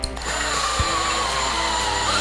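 Power drill driving 2.5-inch pocket hole screws into a wooden farmhouse bench joint, a loud continuous high whine from close by with a small knock near the start.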